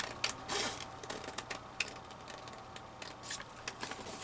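Scissors snip through paper in quick, irregular cuts close up, with short pauses between bursts of snipping.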